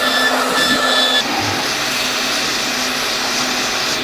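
A wooden pen blank spins on a lathe while being sanded with light pressure, giving a steady whirring drone with a faint high whine that shifts slightly partway through.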